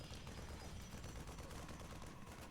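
Rapid gunfire from Marines attacking a pylon in StarCraft II, a dense continuous crackle of shots at steady loudness throughout, with no talk over it.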